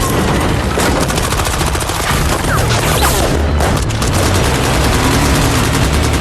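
Dense, loud gunfire from a police shootout with killers in an action movie, with rapid machine-gun bursts and heavy booms filling the whole stretch.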